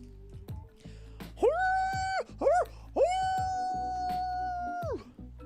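A Pokémon cry imitating a howl: several rising, wavering animal-like wails, two short and one long sustained note, clear and close.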